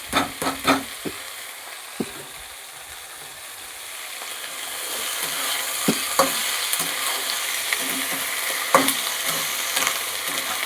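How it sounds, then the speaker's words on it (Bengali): Leafy greens, cut in large pieces, being stir-fried in a pan, with a steady sizzle and intermittent scraping and clacking of a spatula against the pan, growing fuller and louder partway through; no one speaks. "এবার শাকটা আমি খানিক্ষণ নাড়াচাড়া করে ফিরে আসি"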